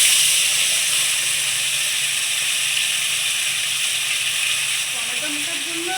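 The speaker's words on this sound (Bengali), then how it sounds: "আমি মশলাটা দিয়ে দেবো।" Ginger, cumin, chilli and tomato spice paste sizzles steadily in a hot pan, a continuous close, loud frying hiss with faint crackles throughout.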